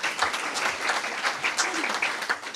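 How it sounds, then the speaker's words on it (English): Audience applause at a community brainstorming meeting, a moderate, continuous patter of many hands clapping, with faint voices mixed in beneath. "Give yourselves a round of applause,"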